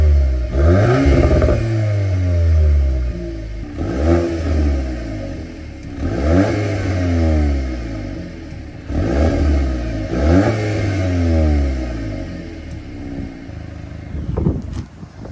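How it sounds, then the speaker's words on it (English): A 2023 Volkswagen Golf R exhaust is revved about four times at roughly three-second intervals, each throttle blip swelling to a deep roar and falling back to idle, heard close with no talking. "I'll give you an idea of a couple different exhaust notes in the different modes."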